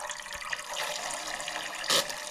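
Air hissing and spluttering out of a car's Hydragas suspension as it is bled, a continuous watery hiss with a brief louder burst near the end.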